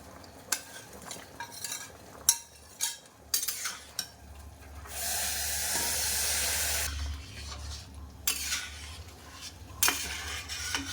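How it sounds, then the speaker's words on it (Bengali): Pointed gourds (potol) going into a hot pan on a home stove, with scattered utensil clinks and stirring scrapes, then a loud steady sizzling burst for a few seconds before fading back to intermittent pan knocks. "এবার পটলগুলো দিয়ে দিচ্ছি"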